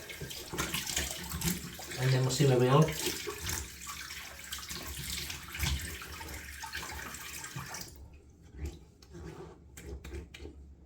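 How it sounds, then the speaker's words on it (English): Hot water runs from a tap to rinse a face, a steady splashing flow under occasional nearby talk before stopping toward the end. "Right, let's rinse the face, hot water."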